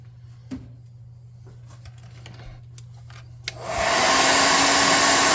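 A hair dryer switches on and blows steadily at close range, drying paint on a handmade puzzle cube prop for a tabletop role-playing game, after a few quiet ticks and clicks.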